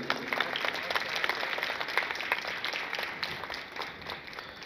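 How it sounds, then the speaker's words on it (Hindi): At a Christmas carol competition in a church, an audience claps during candle lighting, a steady moderate wash of many hands with a few sharper claps, gradually easing toward the end. "जब ये जोत जलाई जाती है हम जोरदार तालियां परमेश्वर की महिमा के लिए बजाएंगे"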